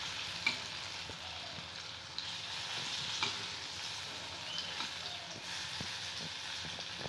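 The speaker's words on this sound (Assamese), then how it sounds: "এনেদৰে মই আকৌ কিছু সময় ভাজি থাকিম" Lentil pitha fries in a pan of hot oil, a steady soft sizzle continuing throughout, with a few faint clicks from the utensil and no talking.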